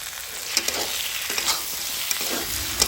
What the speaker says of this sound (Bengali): আলুটা কষাতে কষাতে যখন একটু গলে আসবে এর মধ্যে দিয়ে দিচ্ছি কেটে রাখা টমেটো।